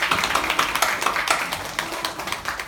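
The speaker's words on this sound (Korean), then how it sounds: "우리 하나님의 감사의 박수 올리겠습니다." A congregation at a Thanksgiving Sunday service in a Korean church breaks into sustained, dense applause, many hands clapping quickly in a roomy space, with no speech over it.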